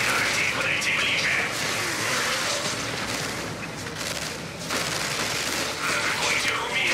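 Dense, sustained gunfire crackles through a large-scale battle in the Warhammer 40K Dawn of War II Retribution ork campaign finale, loud and overlapping with clattering weapon and mechanical noise throughout.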